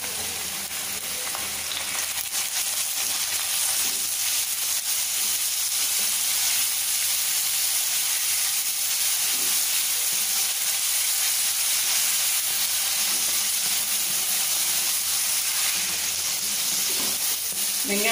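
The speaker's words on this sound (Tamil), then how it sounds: "வெங்காயத்தை சேர்த்து வதக்கி எடுத்துக்கும் போதே நம்ம இஞ்சி பூண்டு பேஸ்ட்டு சேர்த்துக்கலாம்." Ginger garlic paste frying with onions in a pan for mushroom gravy, a loud, steady sizzle and hiss that runs unbroken throughout, with no talk.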